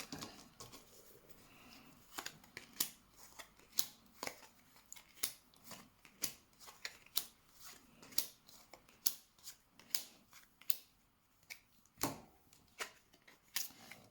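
Tarot cards are shuffled and drawn in a quiet room, a long series of sharp, close flicks and snaps at irregular intervals over a soft hiss, with no talking.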